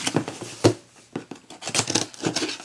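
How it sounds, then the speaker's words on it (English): Shipping box holding a Balenciaga item from Fashionphile being cut open, with short scraping slices and crinkly cardboard and tape sounds in quick bursts, close and moderately loud, without talk. "Cut open the box."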